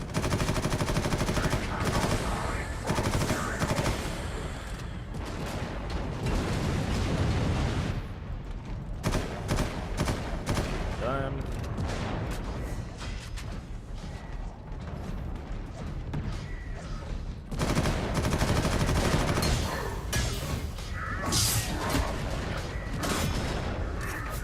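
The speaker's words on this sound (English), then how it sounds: "Wow, that grenade had more power than I thought it did." Gunfire rattles in dense machine-gun bursts with heavy explosive booms, including a grenade blast, from a Warhammer 40,000: Eternal Crusade battle, loud and continuous with brief lulls between volleys.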